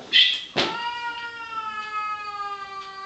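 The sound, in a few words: cat meowing, sounding like a crying baby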